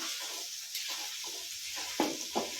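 Tomatoes go into a pan of frying onions with a soft, close sizzle. A spoon scrapes and stirs in short, rhythmic strokes, with a couple of sharper scrapes near the end.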